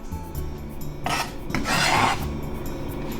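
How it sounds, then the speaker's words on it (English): Knife slicing through halved vegetables on a board, a few short crisp cutting strokes with one longer rasping pass, close and clear with no talk. "Cut them in half. Put them together and then slice."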